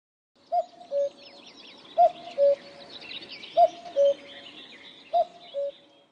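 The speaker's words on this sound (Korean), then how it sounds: "오랫동안 멈췄던 뻐꾸기가 다시 울기 시작했다" A cuckoo calls its two-note falling cry four times at even intervals, clear and alone against a quiet background.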